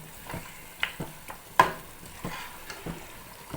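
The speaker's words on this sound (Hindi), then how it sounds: "मीडियम फ्लेम पर जो है अभी हम गोश्त को भून रहे हैं" Mutton (gosht) browning in a pan over a medium flame for palak gosht, a soft steady sizzle broken by a few sharp utensil scrapes and taps as the meat is stirred, with no talking.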